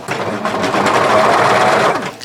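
Overlock sewing machine stitching men's yukata fabric, running as a close, loud, continuous motorized whir for about two seconds before stopping.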